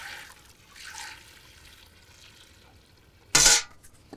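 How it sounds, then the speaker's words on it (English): Water poured from a refill pot into a cooking pot of salt pork on the heat: a brief, bright splashing gush near the end, after quiet faint trickles and a low background hiss. "we will grab the refill pot and transfer more water in"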